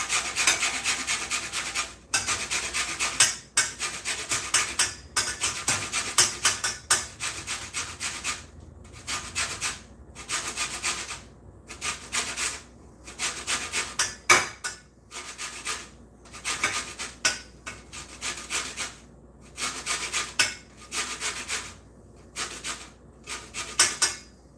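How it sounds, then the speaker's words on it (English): An orange is zested with a hand zester for baking: a long series of close, rhythmic scraping strokes, some quick and some drawn out, with brief pauses between passes. "We're going to go ahead and zest this."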